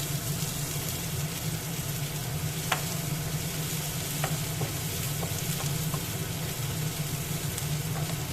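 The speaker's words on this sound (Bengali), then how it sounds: "পেঁয়াজটা একটু ভালো করে ভেজে নিতে হবে।" Onion fries in a pan with a loud, unbroken sizzle and a few faint clicks over a low background hum.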